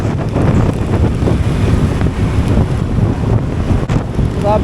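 Strong wind buffets the microphone during a long ride from Quezon City to Nueva Ecija, making a loud, steady roar and rumble that fills the whole stretch without letting up.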